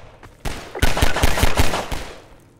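Gunshots in the Half-Life video game: a single crack, then a quick run of about six loud, evenly spaced shots, each with a short decaying tail.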